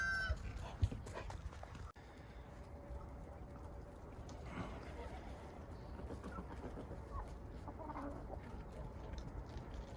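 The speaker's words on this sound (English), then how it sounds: "We got some cold roosters this morning." Chickens and roosters cluck and call at a distance on a cold morning farm, faint scattered bird sounds over steady outdoor background noise.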